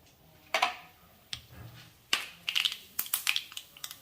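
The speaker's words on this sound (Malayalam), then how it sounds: "കടുക് പൊട്ടി അതിലേക്ക് പച്ചമുളക് ചേർക്കാം" Half a teaspoon of mustard seeds popping in two tablespoons of hot coconut oil, irregular sharp crackles and snaps over a quiet background, close but soft, with no talk.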